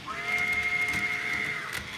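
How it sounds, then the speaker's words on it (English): A steady, high-pitched toy train whistle sound effect holds for nearly two seconds, clear and close, with a faint rattle underneath. "this is a little whistle from my sound equipment"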